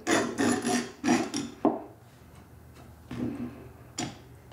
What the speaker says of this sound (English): we're gonna definitely need to clamp these boards down so they don't move out of place while we're screwing them in